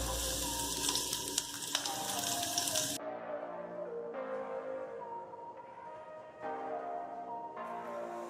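Chopped garlic, ginger and green chili sizzle steadily in hot oil in a pan for a vegetarian American chop suey, a loud continuous crackle close by that thins out after a few seconds, with no talking.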